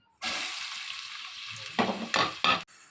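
Onions, green chillies and curry leaves hit hot oil with a sudden loud hiss that settles into a steady sizzle, followed by a few bursts of stirring and scraping near the end.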